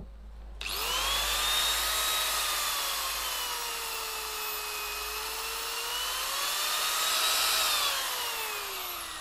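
A DEKTON 1100-watt handheld power tool spins up sharply and runs with a loud, high whine close by, its pitch sliding slowly up and down as the speed is adjusted.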